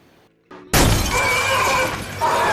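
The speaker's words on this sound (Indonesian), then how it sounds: "Vickers yang sedang menunggu di helikopter diserang zombie yang memecahkan kaca." Glass shatters loudly as a zombie smashes through a helicopter window in a Resident Evil film, a sudden crash after quiet low rumbling, followed by scattering debris and sustained noisy clatter.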